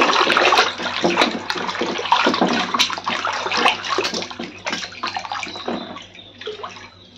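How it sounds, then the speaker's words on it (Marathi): New clay pots being lifted out of a tub of soaking water, with continuous close splashing, sloshing and dripping throughout, easing slightly toward the end. "आता मी सगळी भांडी पाण्यातून काढून घेते"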